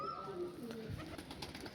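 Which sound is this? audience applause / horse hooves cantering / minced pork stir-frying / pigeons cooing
pigeons cooing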